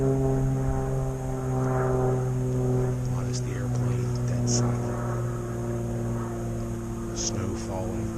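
A propeller airplane drones steadily overhead, a low humming tone holding through the whole stretch, with faint outdoor sounds around it.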